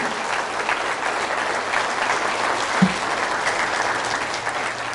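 Strong, sustained applause from a church congregation at a Catholic prayer service, a steady dense clapping that holds an even level throughout, with a single brief thump partway through.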